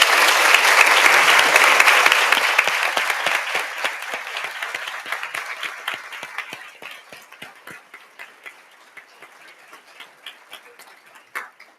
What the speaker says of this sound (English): Give you all a big round of applause.